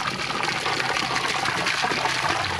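Water gushes hard and steady from a barn hose with no nozzle, fed through an in-line pressure accumulator, a dense close rushing wash with no break and no voices.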